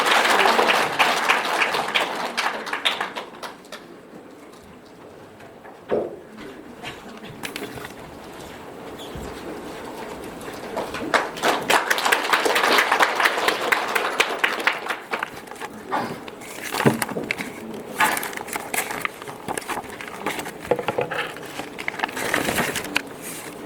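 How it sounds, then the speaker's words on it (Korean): Audience applause at a Buddhist dharma assembly as a lay devotee is introduced: sustained, dense clapping that dips briefly, then swells again and continues steadily to the end. "황혜성 부사님께 큰 박수 부탁드리겠습니다."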